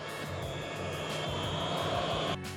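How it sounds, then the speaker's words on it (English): A Costco Ascend Aeronautics ASC 2600 drone auto-launching, its motors giving a steady, buzzing whir that holds close and level, then cuts off abruptly near the end. "we're gonna come over the drone, and it's gonna auto launch"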